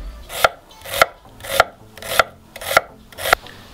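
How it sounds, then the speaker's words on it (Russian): Six crisp, regular knife strikes dice onion finely on a wooden board, each a close, bright tap with a short scraping tail, steady rhythm and no talking. "Также мелко, мелким кубиком."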